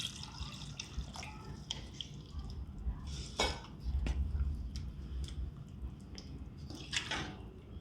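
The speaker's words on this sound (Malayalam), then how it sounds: "അല്പം കൂടി വെള്ളം ഒഴിക്കാം" A little more water trickles into the tapioca mash with soft splashing and a few light knocks against the cooking vessel, quiet and close over a low background rumble, no voices.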